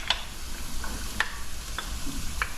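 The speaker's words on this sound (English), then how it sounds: "What you do first is actually you saute the onion" Onion sauteing in a pan for a salt and pepper bluefin tuna dish makes a steady close sizzle, punctuated by a few light ticks and scrapes of stirring.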